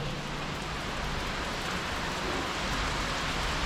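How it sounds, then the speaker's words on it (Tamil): Steady rain pours outside on a trek at Thiruvannamalai, a dense continuous hiss of drops on surfaces with no pauses. "வெளியே மழை பெய்யுது"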